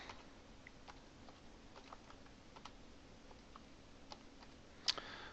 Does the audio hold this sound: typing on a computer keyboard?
yes